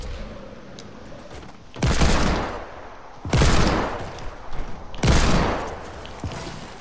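Gunfire in the Fortnite Battle Royale video game comes as three loud, close bursts of rapid shots spaced about a second and a half apart, each ringing out briefly over a low background.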